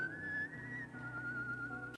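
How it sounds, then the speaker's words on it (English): A single sustained whistle from the boxing anime Ashita no Joe, a clear steady tone held for about two seconds with a slight wavering pitch, alone and fairly close before cutting off abruptly. "And we get the whistle"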